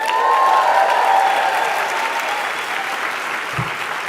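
Steady, sustained applause from a large festival audience at South by Southwest fills the room evenly, loud and continuous with a slow taper.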